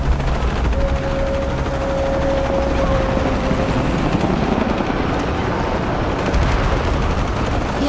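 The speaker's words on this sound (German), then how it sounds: "Mehr Helikopter." Helicopter rotors and gunfire in the Shadow of the Tomb Raider video game, a dense, loud, continuous roar of engine noise and rapid shots that stays steady throughout.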